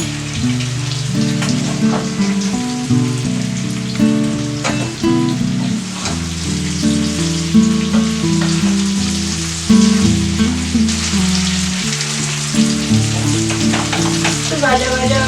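Fried mixed vegetables for a Bengali panchmishali torkari sizzle and crackle loudly in a pan, a dense continuous frying hiss with small bursts, while quiet background music plays beneath it and no one speaks.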